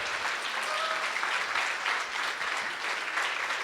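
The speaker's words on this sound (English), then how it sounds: "let's give Dr. Weiland another round of applause and all of our honorees today" An audience at the Broward Senior Hall of Fame ceremony gives Dr. Weiland and the honorees a sustained round of applause, even and fairly soft, with no talking over it.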